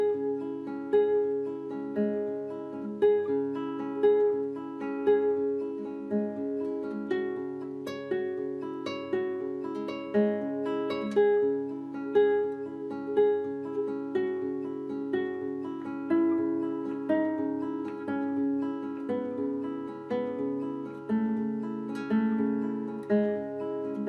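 Classical guitar playing the third movement of Carlo Domeniconi's Koyunbaba, a fast rippling arpeggiated pattern of plucked notes over ringing open low strings, played solo and close with no talking.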